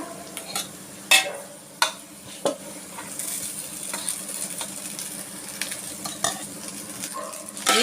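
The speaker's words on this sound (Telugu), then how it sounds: "దీనిలోనే నేను అన్నం వేస్తున్నాను." Cooked rice being stirred into a hot pan for egg fried rice, with a steady sizzle under repeated scraping and clinking strokes of a utensil against the pan, close and fairly loud.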